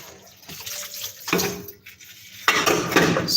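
Someone washes a few dishes at a kitchen sink. Plates and cutlery clink close by, and running tap water starts and stops in bursts, with no talking.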